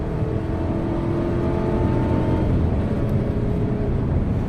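A steady engine drones from inside the cabin of a Volvo XC40 T4 FWD, its pitch climbing slowly under heavy acceleration to about 50 mph, with a constant road rumble beneath.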